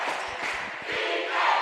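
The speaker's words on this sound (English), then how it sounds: "The crowd is definitely in it." A crowd at a high school basketball game between Ponchatoula and John Curtis roars and cheers loudly and steadily, with a few shouts rising out of the din.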